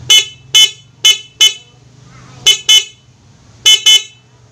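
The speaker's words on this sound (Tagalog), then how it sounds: "So check naman natin yung busina." A car horn honks in short sharp blasts, some single and some in quick pairs, loud and close over a faint engine hum.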